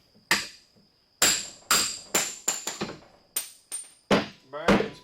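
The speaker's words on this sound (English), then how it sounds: "stick it in your vise, take your punch, take your hammer," Hammer striking a metal punch to knock out a wheel bearing from a Yamaha Rhino rear hub held in a vise, about a dozen sharp ringing metallic blows at an uneven pace, close and loud.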